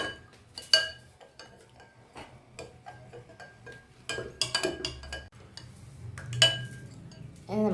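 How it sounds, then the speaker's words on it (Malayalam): Curd being stirred into a horse gram mixture in a bowl, giving scattered clinks and scrapes of a spoon against the dish, with a few louder taps amid quieter stretches. "കുറച്ച് തൈര് ചേർത്ത് കൊടുക്കുന്നുണ്ട് കേട്ടോ നല്ല പോലെ ഇങ്ങനെ മിക്സ് ചെയ്ത് കൊടുക്കാം"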